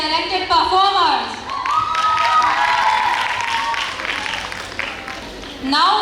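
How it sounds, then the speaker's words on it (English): At a college hostel freshers' day event, the audience claps for the performers, with loud whoops and cheering voices rising over the applause, which swells again briefly at the end. "Another warm round of applause for our talented performers."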